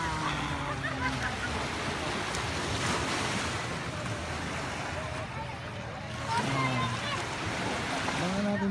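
Ocean waves wash and splash continuously along a California beach at sunset, with a steady broad surf roar and wind buffeting the microphone, while voices talk faintly in the background.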